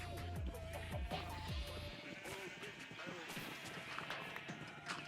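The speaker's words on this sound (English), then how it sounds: "We'll start with 1 sheep." Sheep bleating in Minecraft, a few short calls over hoof clatter and game noise, fairly close and mid-loud with a busy background.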